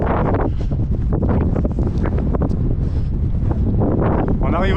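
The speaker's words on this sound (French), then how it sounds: "Il y a pas mal de vent." Strong wind on a hiking trail in Norway buffets the microphone in heavy, rumbling gusts, loud and constant throughout with a roaring, blustery texture.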